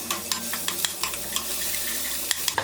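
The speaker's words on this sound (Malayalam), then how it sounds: "ഇതിലേക്ക് ഈ അരച്ച് വെച്ചിരിക്കുന്ന അരപ്പ് ഇതിലേക്ക് ഇട്ട് കൊടുക്കാം. ഇനി ഇതൊന്ന് ഇളക്കി കൊടുക്കാം." Ground masala paste fries in oil in a pan for a Kerala fish curry while a spoon stirs it, scraping and clicking in irregular strokes over a steady sizzle and a low hum.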